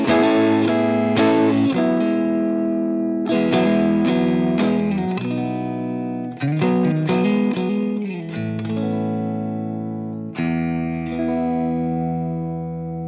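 Electric guitar plays clean chords and picked notes through an Amplified Nation Trem Drive Deluxe amp with the reverb set around midway, and ringing sustained tones trail off into a wash of ambience.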